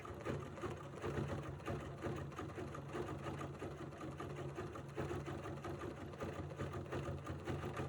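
A sewing machine stitches couched fibers down onto fabric, a quiet, rapid, steady mechanical whirring and needle chatter that continues evenly throughout with no talk.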